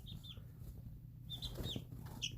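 Young chicks peep in short, high, thin calls in scattered pairs, moderately close, over a low steady background rumble with no talking.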